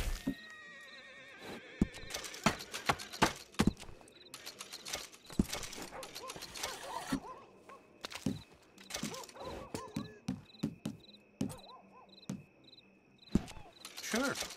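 Horse sounds in the Red Dead Online video game: loud neighs and whinnies with hoof clip-clops, set against a cricket-filled night ambience and scattered clicks of game mechanisms.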